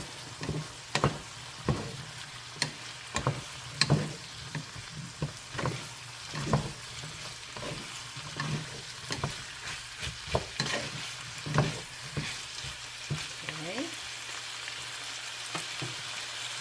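Ground beef picadillo with potatoes and carrots is stirred in a frying pan, with a soft sizzle under repeated scraping and clanking of the spoon against the pan at an irregular rhythm, close by.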